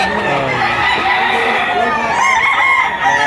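Roosters from a farm crow repeatedly at a chicken market in Lipa, Batangas, overlapping calls and clucks filling the air loudly and close, with faint crowd noise beneath.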